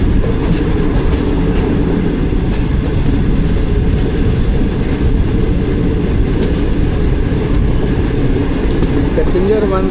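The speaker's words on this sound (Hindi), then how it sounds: "गुजरात रेलवे स्टेशन से पास हो रही है 6 टाउन ग्रीन लाइन।" Green Line Express train rolling past Gujrat railway station at dusk, a steady loud rumble and rattle of rail cars with faint clickety-clack, continuous throughout.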